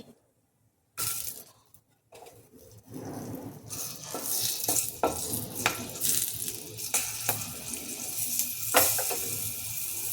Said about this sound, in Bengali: কড়াইয়ে আমি প্রথমে সরষের তেল নিয়ে নিয়েছি, এবার আমি কালো জিরেগুলো দিয়ে দিচ্ছি